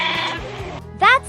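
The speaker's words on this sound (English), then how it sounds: "Sheep say baa, baa." A voice speaks, then a single short sheep bleat sounds, brief, wavering and close.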